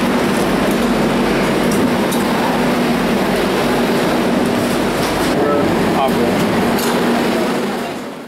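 Madrid metro train riding, a steady broadband rumble of the moving carriage with a faint low hum, loud and continuous throughout.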